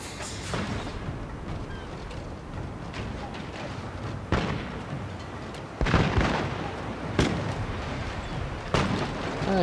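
Ship cannon fire in the Total War Shogun 2 video game, several loud booming blasts at irregular intervals over a constant rumbling battle din.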